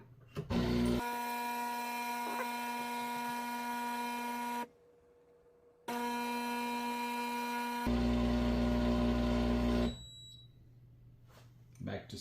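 Running in steam mode, a Breville Barista Pro espresso machine gives off a loud, sustained whining pump drone that stops, restarts after a short gap, swells into a heavier rumble and then drops away to quiet hissing.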